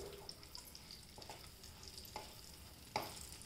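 Tamarind goes into hot oil in a pan while eggplant chutney is being made. A quiet sizzle plays under a few soft stirring scrapes and clinks, faint and close, with no talking.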